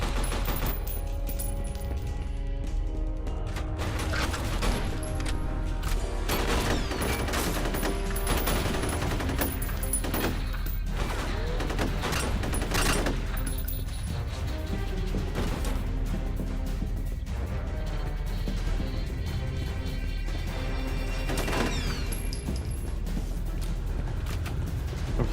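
Sustained rapid gunfire from automatic weapons in the shooter game F.E.A.R. Perseus Mandate, loud and nearly continuous bursts with crashes and impacts throughout.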